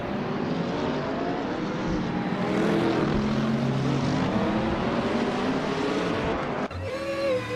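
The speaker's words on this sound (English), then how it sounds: "Gary Z is piloting a Ferrari 488 GT3 from 2011." A Ferrari 488 GT3 race car engine roars loudly and steadily, its tone climbing and falling as it revs. A sharp gear change comes near the end, followed by a higher-pitched whine.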